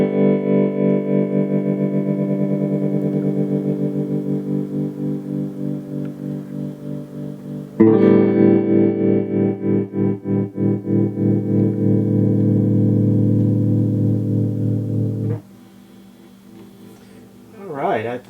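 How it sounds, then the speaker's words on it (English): A restored Fender Vibro Champ guitar amp plays sustained guitar chords with its tremolo effect, the volume pulsing in a steady wobble that changes speed between held chords, loud and close, with a short pause near the end. "let's bring our tremolo up here"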